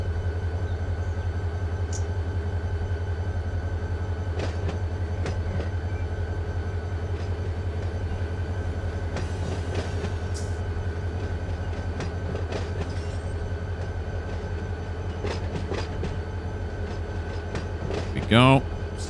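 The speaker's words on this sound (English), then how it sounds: "Let's move this train forward now." A freight train in Run 8 Train Simulator III rolls forward with a steady low engine drone, rhythmic wheel clicks and a brief wheel squeal near the end, loud and continuous.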